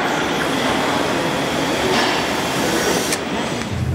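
A train on a Swiss line from Zurich toward Lucerne, heard from inside the carriage as a continuous loud rumble of wheels and rails. Faint squeals and clicks come through, and no one speaks.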